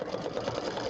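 An embroidery sewing machine stitches out a Santa design, its needle tapping in a fast, steady rhythm for a moment, close and fairly soft.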